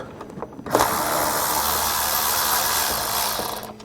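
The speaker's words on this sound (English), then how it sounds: "To remove the glow plug module, we have to undo these two" A ratchet wrench turns out the bolts on the glow plug module of a Dodge Sprinter van, giving a steady close-up clicking whir that runs almost the whole time after a short quiet start.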